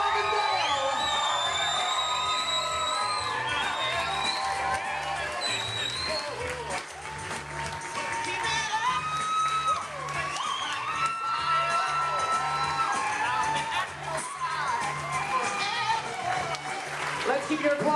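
Wedding guests at Plimoth Plantation clap, cheer and whoop for the newlyweds during bridal party introductions, a loud, sustained crowd roar with shouts and high yells throughout and a steady low rhythmic thump beneath.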